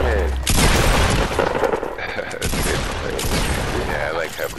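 Loud bursts of gunfire and booming impacts in the Fortnite video game, packed close together over a few seconds with a short break partway through, while a player talks over the shooting.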